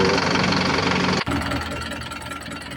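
A freshly overhauled Isuzu 4JJ1 truck engine, fitted with new piston rings and liners, idles loudly and steadily close by, with a dense rumbling drone and a brief momentary dip partway through.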